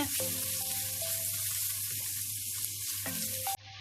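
Bacon seasoned with salt and pepper sizzles steadily in a frying pan while it is stirred, producing a constant close hiss with faint scraping and clinking, before the sound abruptly drops away at the end.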